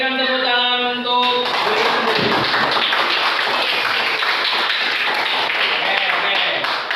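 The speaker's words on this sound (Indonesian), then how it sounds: "Kita berikan tepuk tangan untuk" Classroom applause for finished work: dense, sustained clapping from a group of students, starting after a brief spoken word and continuing steadily and fairly loud to the end.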